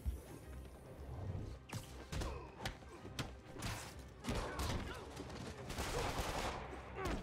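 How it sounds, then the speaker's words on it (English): Machine gun fire in the Spider-Man PS4 game comes as repeated loud bursts and sharp cracks in uneven volleys, with impacts mixed in and faint talking underneath. "there's several machine guns"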